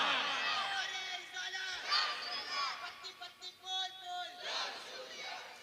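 Men at a Muslim religious gathering chant the Takbir slogan together, a loud massed call of voices rising in a few surging bursts, with a lone voice leading between them.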